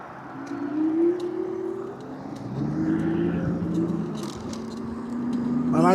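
A car passes on a road during a night ride on an e-bike: its engine tone rises and fades over several seconds, then a fresh rising whine comes at the end, against steady road noise.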